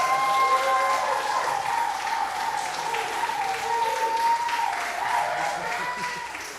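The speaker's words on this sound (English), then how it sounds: "Please clap for Ollie one more time" Sustained applause from an audience at a poetry reading fills the room, with cheers and voices rising over the clapping throughout.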